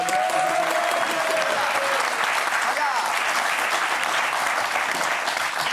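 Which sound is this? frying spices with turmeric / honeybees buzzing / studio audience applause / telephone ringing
studio audience applause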